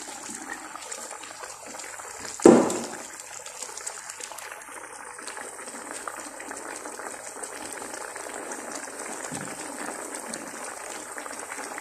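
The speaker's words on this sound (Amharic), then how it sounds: "አሁን ውሃ ጨምርበታለሁ ማለት ነው" Water poured into a pot of fish stew cooking on the stove, a short loud splash followed by continuous bubbling and simmering that carries on steadily.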